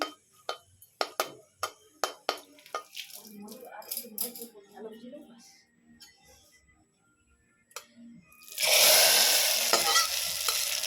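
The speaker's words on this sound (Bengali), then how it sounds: "আমি খিচুড়িতে ফোড়ন দেওয়ার জন্য দিয়ে দিলাম তেল আর শুকনো লঙ্কা" A run of sharp ticks and a brief voice come first, then oil and dry chillies for a khichuri tempering erupt into a loud, sudden, sustained hiss and crackle close by.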